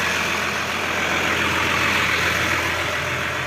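A tractor engine idles with a steady, loud, unbroken diesel drone, heard up close while hitched to an Odyssey field sprayer on a farm. No voices are heard over the continuous rumble.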